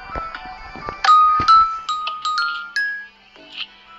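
A doorbell built from note blocks in Minecraft rings a short tinkling melody of bright chime tones, several quick notes in sequence after a few soft taps, clear and close.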